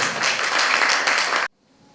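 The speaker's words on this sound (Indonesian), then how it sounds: "Kita beri tepuk tangan untuk beliau." Dense applause from a workshop audience, steady for about a second and a half, then cutting off abruptly into near silence.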